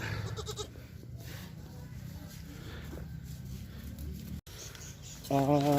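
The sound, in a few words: goats bleating on a goat farm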